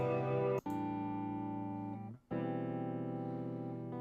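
Sustained guitar chords ring out clean without effects, a loud harmonic chord held, a brief cut, then a second chord struck and left to sustain; no voices.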